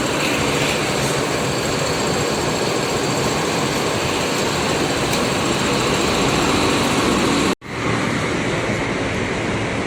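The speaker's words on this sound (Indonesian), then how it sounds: "Masih mulus ya teman-teman suara mesinnya nih." A PT Rapi bus engine, ex Big Bird, runs with a steady, loud broadband roar that cuts out for an instant near the end before resuming.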